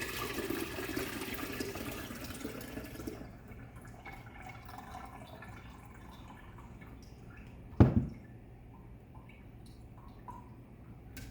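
Blended rice water drips and trickles through a strainer, a wet pouring rush at first that thins to sparse drips, broken by one sharp splash or clunk partway through.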